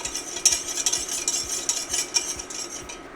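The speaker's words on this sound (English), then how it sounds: "I like to whisk it well enough to where I don't really see those chunks of cornstarch" Cocoa and cornstarch pudding mixture being whisked in a bowl for chocolate pudding, a steady run of quick scraping, tapping strokes with light metallic clinks, close and alone without talk.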